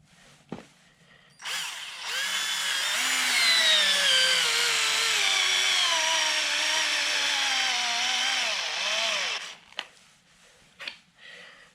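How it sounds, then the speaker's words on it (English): Hitachi 10.8 volt drill driver in drill mode on low speed, driving a lag bolt: a steady, close motor whine that sags slightly under load for about eight seconds, then stops abruptly, with a few clicks after. "I'm just going to drive a lag bolt."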